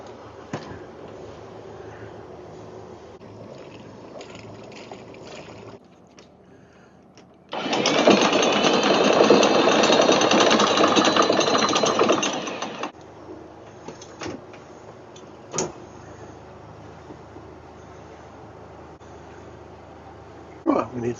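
Anchor windlass on the sailing boat WakaWaka, which needs the port engine powered to work, runs as a loud steady mechanical whirr for about five seconds, with voices and a low drone before and after.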